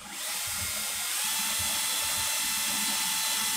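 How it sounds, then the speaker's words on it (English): A power drill with a small bit bores under heavy pressure through a layer of metal and a layer of plastic, a loud, steady high-pitched whine that starts sharply and holds without a break. "Just want to apply a lot of pressure on it, so it drills through both layers, through the metal and the plastic itself."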